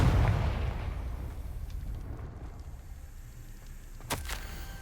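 Confringo blasting spell explosion in Hogwarts Legacy, a single sharp burst near the end over a low, rumbling game ambience that fades from an earlier heavy boom.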